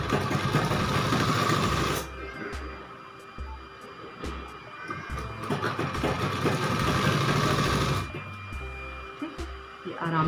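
A sewing machine stitches the hem of a girl's midi in two rapid mechanical bursts, each a couple of seconds long, with quieter handling and pauses between them.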